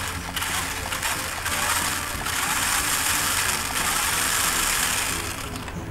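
An RC rock crawler QD with an upgraded motor runs in place without driving, giving a steady, loud mechanical whir with a rattling, grinding edge that holds constant throughout.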